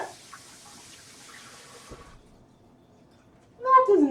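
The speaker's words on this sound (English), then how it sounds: "I should rinse, I've got pink on my fingers" Tap water runs in a steady hiss as pink dye is rinsed off fingers, then cuts off into near quiet before a voice begins speaking.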